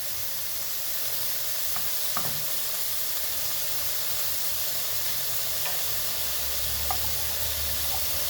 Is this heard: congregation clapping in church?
no